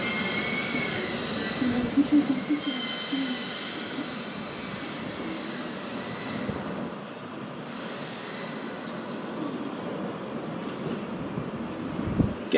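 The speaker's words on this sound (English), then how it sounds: "BA 833 from Dublin is in the final approach phase now." A British Airways Boeing 747-400 in retro Landor livery on final approach to Heathrow, a broad steady jet engine roar heard from some distance that holds throughout, with faint ambient noise and no clear talking.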